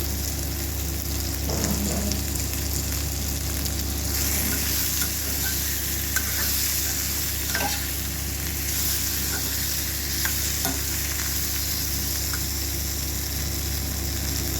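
A tempering for amla (gooseberry) dal fries in a pan, a continuous bright sizzle and crackle running evenly throughout, with faint scraping touches of stirring now and then.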